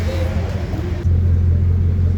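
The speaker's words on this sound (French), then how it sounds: "Petit call start, petit démarrage de la Chiron en direct les gars." A Bugatti Chiron hypercar engine starting up, a steady low rumble that swells and settles into a loud, even idle partway through, heard close by.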